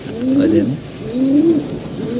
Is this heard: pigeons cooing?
yes